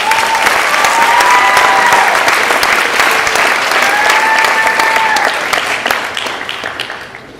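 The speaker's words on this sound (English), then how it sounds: "please give a big round of applause to Mr. Vijay Vemulapalli" Loud, dense audience applause fills a hall at a charity event welcoming a longtime volunteer, sustained steadily before tapering off at the end, with no voices over it.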